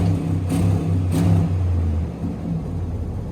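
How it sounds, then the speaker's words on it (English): A Dodge Ram 1500 with a 5.7 HEMI V8, sitting in park, idles with a deep low rumble close by, and the engine swells briefly twice under light revs. "Couple more revs up here."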